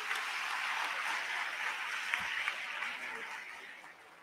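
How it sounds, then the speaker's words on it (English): Audience applause at a high school graduation ceremony for final-year students, a steady broadband patter of clapping held for about four seconds and slowly fading toward the end, heard from within the hall. "A hand of applause for him."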